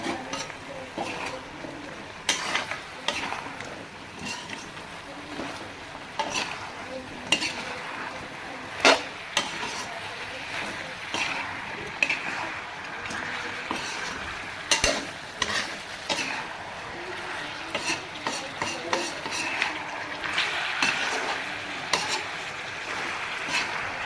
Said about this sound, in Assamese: এয়া অকণমান আমি এতিয়া লৰাই লওঁ।